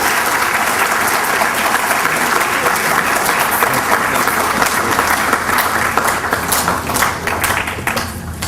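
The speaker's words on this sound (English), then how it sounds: "Let's give a true Kenyan clap to Ngugi Kiuna." Loud, sustained clapping from a big crowd at a business school event in Kenya, thick and continuous, with a few sharper claps standing out near the end.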